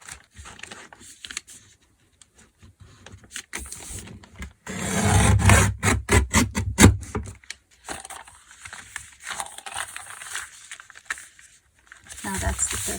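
A repurposed paper bag is trimmed for a junk journal cover, giving a few seconds of crisp rustling and crinkling paper with a voice speaking around it.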